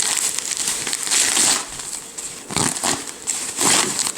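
Puzzle packaging being torn open by hand during an unboxing, with repeated bursts of crinkling, ripping plastic and paper close by, coming in uneven rhythmic surges.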